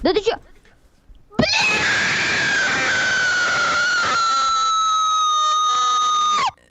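A child's character in the Roblox video game lets out a long, loud, sustained scream lasting several seconds, preceded by a brief shriek, with the pitch sliding slowly downward.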